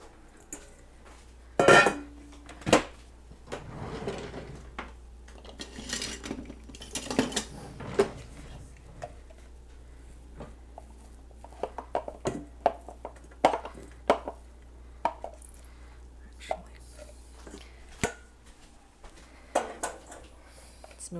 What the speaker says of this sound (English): I'm going to clean out the bowl that we had the spinach in originally